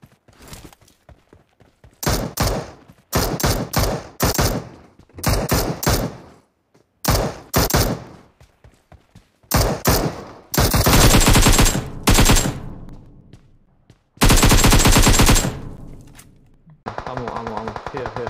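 Gunfire in the mobile game PUBG Mobile: loud, close bursts of rapid automatic fire arrive in repeated clusters separated by short gaps, with some longer sustained volleys later on.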